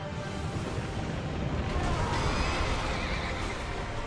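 Neighing and whinnying from a horse boss in Dark Souls 2, with galloping hoofbeats and game combat noise running steadily underneath for the whole stretch, loud and close.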